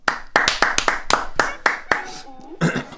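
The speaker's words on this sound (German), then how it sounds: "Applaus" A handful of sharp, rhythmic hand claps, about eight in quick succession, close and fairly loud, followed by a brief voiced sound and a last burst of noise.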